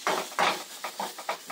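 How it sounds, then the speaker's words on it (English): Sausage patties dropped into a pan for an omelet breakfast, making a few close, short clattering thuds and scrapes in quick irregular succession, with no talking. "I'm gonna throw the sausage patties right here on the side."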